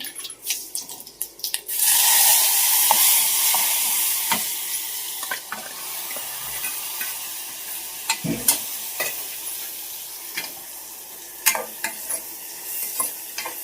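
A pan of kankoda (spiny gourd) curry on a village stove bursts into a loud sizzle when tempered, then settles to a softer hiss with scattered clicks and scrapes of stirring, no voices.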